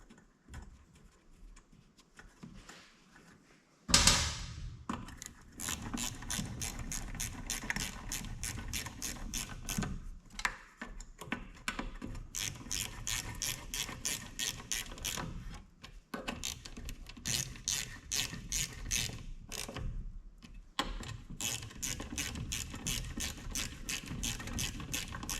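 A 1955 Firestone push mower engine is spun over by hand without its recoil starter, making a fast, steady run of mechanical ratcheting clicks that continues close and fairly loud after a quiet start.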